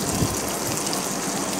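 Batter for Chettinad kandharappam is poured into hot oil and fries, giving a dense, continuous close sizzle and crackle at moderate volume with no pauses and no talking.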